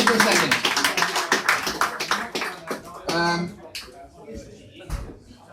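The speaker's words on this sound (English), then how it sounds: "huge round of applause for Chris." An audience at a comedy show claps in a brief burst of applause, dense and close at first, then thinning out as a voice talks over it.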